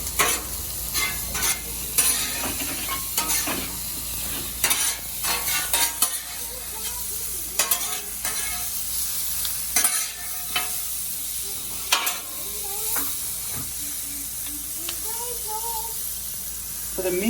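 Philly cheesesteak ingredients sizzle on a Blackstone griddle, with a constant close hiss and repeated scraping stirs and clacks of a spatula throughout. A voice talks briefly at times.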